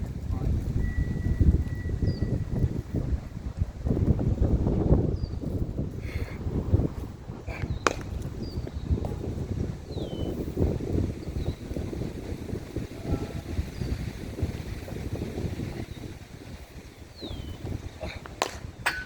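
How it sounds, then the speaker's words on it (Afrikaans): Wind gusts outdoors beside a boat on open water, a steady loud roar buffeting the microphone throughout, with faint creaks and knocks in the background. "is nog net 'n halfuur hier begin die wind waai"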